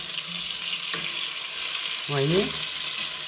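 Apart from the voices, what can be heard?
lentils frying in a pan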